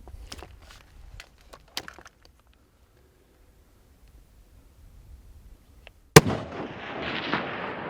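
A single loud rifle shot rings out while hunting a full-curl ram in Sonora, Mexico, a sharp crack followed by rolling echo after quiet seconds with faint handling clicks.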